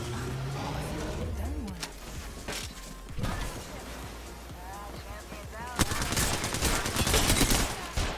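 Gunshots in a video game, scattered bangs and a heavier burst of firing near the end, under excited talking from players.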